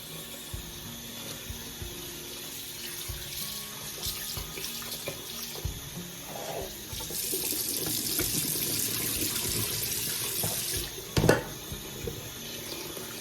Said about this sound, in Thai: เราจะมาล้างน้ำออกนะคะ